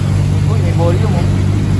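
CFMoto 500SR motorcycle engine running steadily with a throttle blip during a dealership handover, a constant mid-low engine drone close by with voices talking over it.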